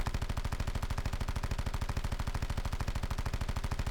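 Automatic gunfire in the Call of Duty Blackout video game, a loud, continuous burst of rapid, evenly spaced shots that lasts the whole stretch.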